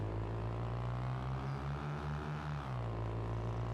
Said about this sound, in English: The engine noise is different.